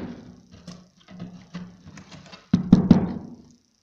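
Dense run of small metallic clicks and ratchety snaps as pins are pulled from a circuit board, quieter at first then a louder close cluster near the end before silence.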